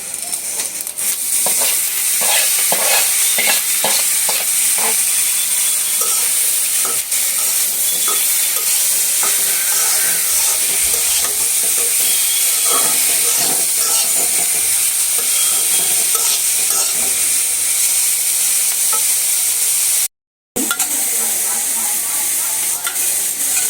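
Onion and prawns frying in hot oil with a loud, continuous sizzle, punctuated by repeated scraping and clacking strokes as they are stirred, close up and briefly cut silent near the end.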